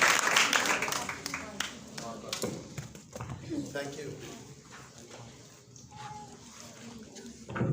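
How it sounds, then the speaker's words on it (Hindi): Audience clapping in a church service, a dense burst of applause at first that thins out over the following seconds while voices talk over it. "यस जोर से ताली बजा दो।"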